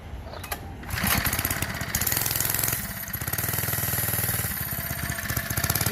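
A Harbor Freight Predator 3hp 79cc four-stroke engine mounted on a motorized bike runs cold, close and loud, with a steady chugging, rattling drone that rises after a brief quieter start.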